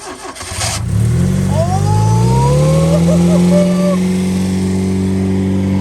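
A Yugo car being jump-started from a booster pack after its battery died: a brief cranking gives way to the engine catching and then running at a loud, steady idle. A faint chime rings over it in the middle.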